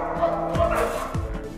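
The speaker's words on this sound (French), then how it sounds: "On voit très clairement que le chien est en vie puis en détresse." A dog in distress gives several short yelps and whimpering barks, moderately near, spread over a second and a half against a steady background of noise and faint voices.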